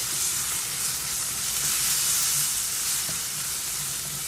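Ginger garlic paste frying in a pan for chicken fry, a continuous close hissing sizzle holding steady over a few seconds with faint stirring scrapes underneath.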